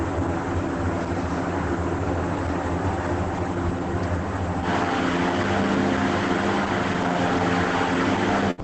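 Propeller aircraft engine revving up before takeoff in Microsoft Flight Simulator 2024, a loud continuous drone that steps up in intensity partway through and holds steady until the end.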